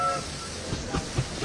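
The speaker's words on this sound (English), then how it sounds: "I like to get a train going, so that's what I'm going to do" A train runs in the SimCity BuildIt mobile city-building game, giving a short soft rumble with faint clacking and hiss, fairly quiet and steady with no talk.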